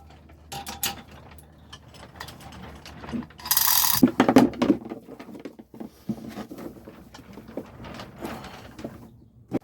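A hoist pulley lifts an MWM/Yanmar sailboat engine, giving close mechanical ratcheting clicks and creaks that peak in a loud burst midway, with scattered knocks and clanks before and after.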